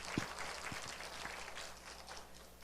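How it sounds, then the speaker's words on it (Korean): A church congregation applauds its middle and high school youth praise team in a reverberant worship hall, with faint, diffuse clapping spread across a quiet room. "자, 큰 박수로 위로해 주시길 바랍니다"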